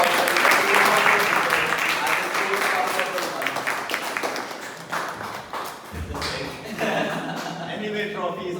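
A round of applause at a Toastmasters club meeting, dense clapping from the room that carries through the whole stretch, with voices and chatter mixed in underneath.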